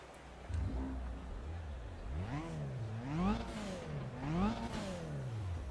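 A race car engine in a racing video game starts up and revs repeatedly, pitch swooping up and down in several sharp rising-and-falling bursts, close and loud.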